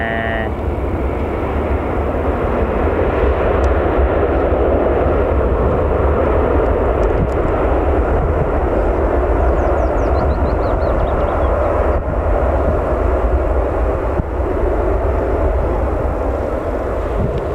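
An aircraft approaches Newcastle Airport, a loud continuous engine roar with a broad rumbling drone that stays steady and close throughout, with no talk.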